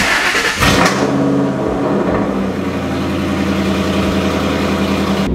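A car engine fitted with a cold air intake starts with a rumble and settles into a steady, close idle, humming evenly throughout.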